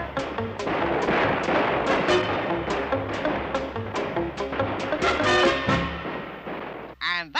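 Rapid bursts of cartoon gunfire blast over and over in an animated hillbilly feud over a ruined apple tree, loud and dense with booming shots and reports, ending with a short ringing tone.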